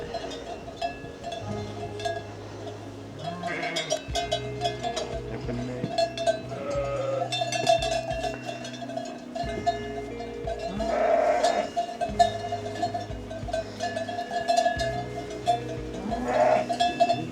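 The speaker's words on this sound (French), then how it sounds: "Des brebis." Sheep bleat repeatedly, some close and some farther off, in the medieval village of La Couvertoirade in Aveyron, while cowbells clank and jingle steadily among the flock.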